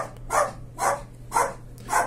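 A dog barks four times in an even rhythm indoors, each bark fairly loud and close, with a low steady hum underneath and no talk.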